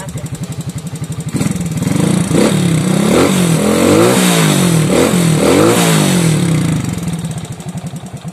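A modified Suzuki Shogun 110 motorcycle, bored out to roughly 120 cc and fitted with an FU exhaust, idles with a rapid throb, then revs up and down several times, loud and close, before settling back to idle.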